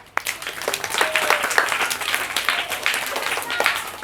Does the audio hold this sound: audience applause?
yes